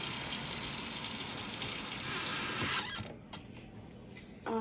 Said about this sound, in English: let's make sure we wash our hands